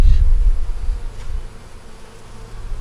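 Honey bees hum at a hive, a close, loud low buzz that eases slightly and holds steady, with no voices.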